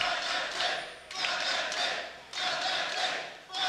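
A large esports arena crowd at a League of Legends EU LCS match, Vitality versus Fnatic, roars and cheers in loud sustained surges that rise and dip, dense and continuous with no clear talk over it.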